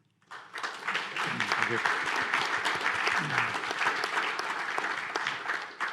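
Big audience applause for panelists closing a session on thermal management, dense clapping that starts suddenly and holds strong throughout, with a brief spoken thanks and faint voices underneath.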